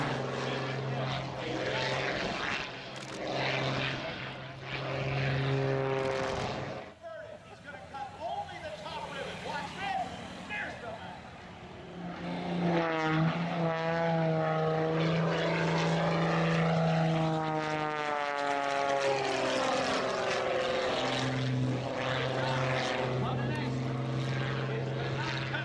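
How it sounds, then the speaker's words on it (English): A highly modified Pitts S2S aerobatic propeller plane flies a display at the EAA AirVenture Oshkosh 2017 airshow. Its engine drones loudly and steadily, the pitch rising and falling as it manoeuvres. "the likes of Skip Stewart, seen here performing in his highly modified Pitts S2S"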